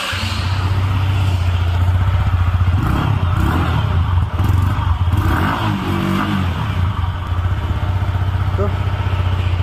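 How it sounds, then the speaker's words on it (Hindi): A Yamaha R15 motorcycle engine idles close up through its single exhaust muffler with a steady low rumble and a few light blips, while someone talks over it. "एक बार इसकी एग्जॉस्ट के साउंड में आपको सुना देता हूँ"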